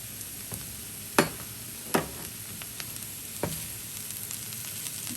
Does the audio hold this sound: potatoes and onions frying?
yes